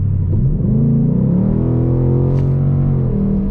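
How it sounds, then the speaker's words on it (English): A Ford Mustang GT V8's active exhaust in track mode burbles deep, rumbling, loud and close, its pitch shifting slightly as the engine revs, with no talking. "Now I'll pop into track."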